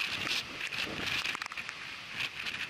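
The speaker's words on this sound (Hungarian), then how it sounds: "Csak olyan szél van, hogy alig kapok levegőt." Strong wind at the Fortica hilltop fortress above Omiš, Croatia, a steady loud rushing and buffeting against the microphone throughout, with no talk.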